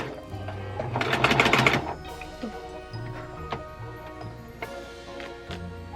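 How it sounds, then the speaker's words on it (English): A sewing machine stitches three costume fabric pieces together, a loud close burst of rapid needle clatter at the start, then quieter scattered ticks and machine knocks as the sewing slows. "I'm just sewing them together so there's no raw edges"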